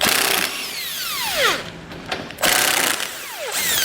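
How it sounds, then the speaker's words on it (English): Ratchet clicking in bursts as a 15mm socket removes bumper beam bolts through an access hole on a 2016 Volvo, loud and close, in several separate runs with short pauses between them. "We're gonna use a 15mm socket to do so."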